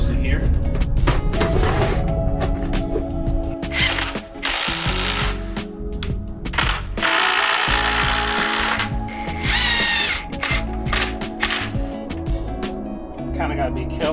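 A power drill drives screws into wood of a deck gate, several loud whirring bursts with short pauses between, mixed with thumps and handling noise.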